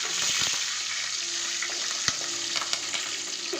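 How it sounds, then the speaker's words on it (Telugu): Peanuts and dried chillies sizzle steadily in hot oil as a tempering for tamarind rice, a close, hissing fry with a few sharp clinks and stirring taps. "పల్లీలు ముందు వేసుకున్నాక మిరపకాయలు వేసాను."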